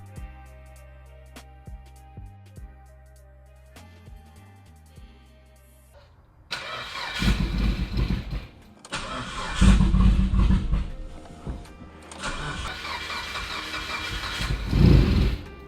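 An old car with a floppy pipe tries to start and barely runs, its engine catching and surging in rough bursts before falling back, even with the gas pedal held to the floor, close and loud with no talking.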